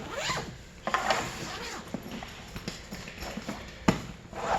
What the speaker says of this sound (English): you line up your zippers and as you push this button here with your thumb, put the zippers in there, and that has a lock